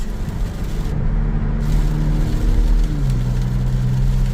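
A truck pulling a trailer downshifts on a road at night, its engine a steady low rumble that drops and shifts pitch partway through, close and continuous with no talk.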